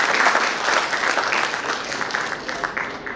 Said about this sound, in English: May we please have a huge round of applause for Professor Pandey.